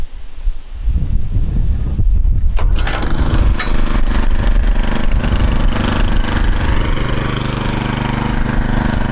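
A Troybilt Mustang riding mower's engine cranks and catches after a quiet start, then settles into a loud, steady idle that runs on close to the microphone with some wind noise.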